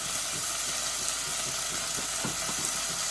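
Chopped tomato and a little tomato puree stirred into browned chicken sizzling in a pan for curry, a constant loud hissing fry with soft stirring thumps, close up and unbroken.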